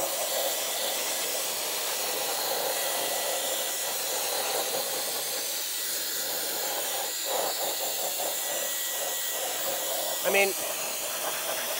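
A cordless car dryer blasts air across a wet tire, a continuous loud rushing hiss with a brief sharper burst near the end; someone speaks a few words over it.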